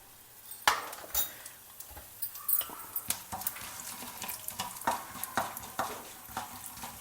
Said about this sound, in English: Fry everything well together.